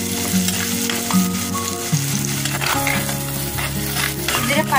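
Onion, ginger, garlic and green chili frying in oil for a mackerel fish curry, a loud, close, continuous sizzle with stirring and light pan scrapes throughout.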